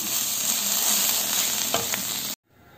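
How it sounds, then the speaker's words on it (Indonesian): Oncom stir-fried with basil leaves in a pan gives a steady, close sizzle with light stirring scrapes, then cuts off abruptly near the end. "kita masukkan saja daun kemangi aduk sampai dia layu"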